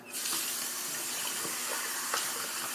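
Shaving soap puck rinsed under a running tap, a steady close hiss of flowing water with faint splashes over the full stretch.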